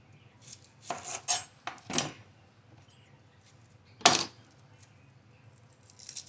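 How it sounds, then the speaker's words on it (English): Green onions and garlic chives being chopped with a knife in a home kitchen, a few sharp cutting taps close to the microphone with pauses between them. "chopping up all my my green onions and my garlic chives and all that."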